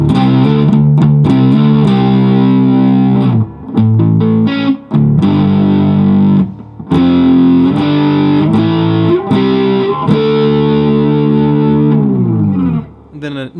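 Distorted electric guitar in drop D tuning plays a hard rock riff of chugging power chords, loud and continuous with a few brief stops and slides, played alone.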